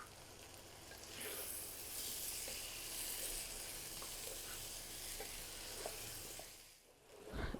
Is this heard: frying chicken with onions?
yes